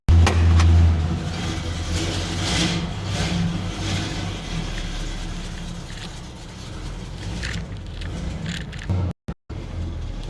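Cummins diesel engine in a Squarebody C30 truck runs steadily and close, a loud low rumble that holds for about nine seconds before cutting out abruptly near the end.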